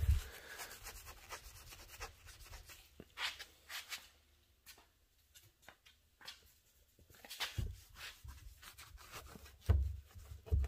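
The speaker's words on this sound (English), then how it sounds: "These are a hand wipe here, so you got to kind of be careful with them because they do have a little bit of grit on them" Gritty hand wipe rubbing old grime off the mirror of a Chevrolet S10 Cameo pickup, quiet close scrubbing strokes in irregular bursts with pauses between them and no talking.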